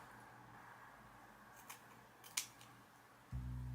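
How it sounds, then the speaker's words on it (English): Scissors cut through the lace of a short bob wig during a wig install, giving two brief, faint snips over a quiet room, followed by a low hum near the end. "Then we're gonna just cut the lace off."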